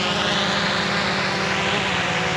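A GoPro Karma drone hovers nearby, its propellers giving off a loud, continuous, even buzzing whine that fills the short stretch with no voices.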